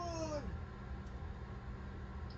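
A single short cat meow rises and falls at the start, close and clear, then fades into quiet indoor room tone for the rest.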